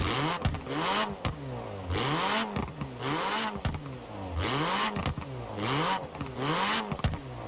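A 2018 Renault Megane R.S. in Forza Horizon 4 revs hard through repeated gear changes, each rising engine whine cut by a quick shift, in a steady rhythmic run of accelerating pulls with no talking.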